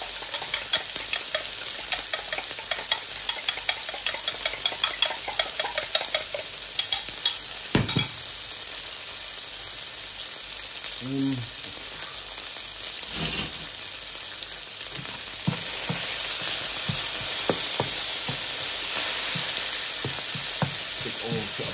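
Bacon fries in a pan with a steady, dense sizzle, broken by occasional stirring clatter, and the crackle swells louder toward the end.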